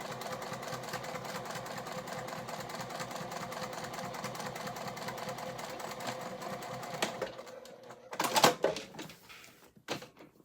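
A sewing machine set to a 1.5 stitch length stitches continuously and evenly on a Moondance garment for about seven seconds, then stops, leaving a few sharp clunks and knocks.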